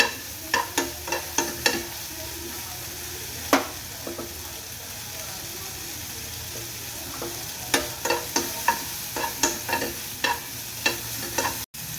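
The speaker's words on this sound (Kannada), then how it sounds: "ಇದು ಟೊಮೊಟೊ ಫ್ರೈ ಆಗಿದೆ" Tomatoes frying in a pan while a spoon stirs them, a steady sizzle under repeated sharp metallic taps and scrapes that come in quick bursts near the start and again toward the end.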